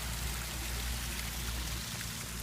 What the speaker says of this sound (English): it's just a little bit weird to see the water coming down